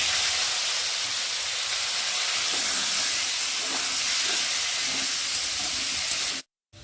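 Sliced potatoes dropped into hot oil with fried tempering spices give a loud, steady broadband hiss and sizzle, close and continuous, ending abruptly in silence near the end.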